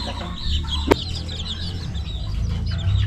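Young Serama chicken chicks clucking and peeping close by, a soft continuous chatter of small bird calls with one brief louder tap partway through, no talk.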